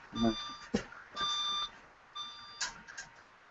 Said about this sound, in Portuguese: Deixa eu só ver aqui que está tocando aqui um alarme.